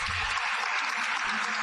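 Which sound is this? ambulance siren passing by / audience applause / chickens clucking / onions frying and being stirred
audience applause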